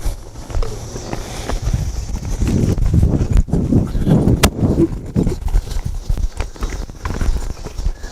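A cutting horse works a cow in an arena, its hooves thudding and clip-clopping in quick, uneven bursts at close range as it stops and shifts, with wind noise over it.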